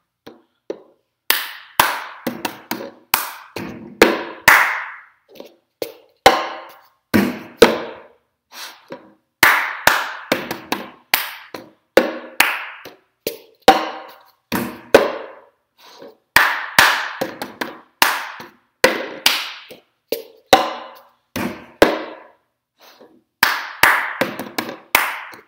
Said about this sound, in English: Over, clap, grab it, tap, sorry, clap, tap, bottom of your hand, slap.